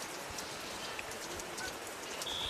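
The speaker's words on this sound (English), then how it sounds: "as it is pouring, and it's been raining most of the second half" Steady heavy rain pouring over an outdoor girls' high school soccer match, a dense continuous hiss with no talk and only a few faint distant bird-like chirps.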